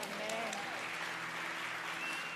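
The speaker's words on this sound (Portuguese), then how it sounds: "você pode aplaudir o Senhor?" A church congregation applauds, a soft, distant and continuous patter of many hands, with a voice and some tonal sound carrying over it.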